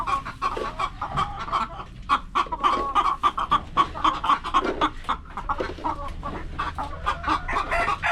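Hens in a coop where eggs are being laid cluck busily and continuously, many close, loud calls overlapping in quick, uneven rhythm, with a faint crow in the mix.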